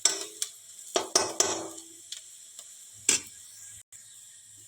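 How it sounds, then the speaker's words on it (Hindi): Spices tempering in hot oil for a Chhattisgarhi thali: a soft sizzle broken by sharp clinks and scrapes of a spoon stirring in the pan, close by, with no talking. "यहाँ हमारे फोरन भुंजा गए तो ये मसाला डाल देता हूँ।"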